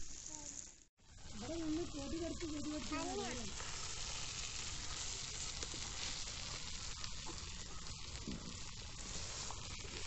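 Redbelly fish fries Kerala style on a flat tawa, giving a continuous dense sizzle and hiss with a brief dropout near the start. A few early squeaky tones sit over the steady frying, close and fairly loud.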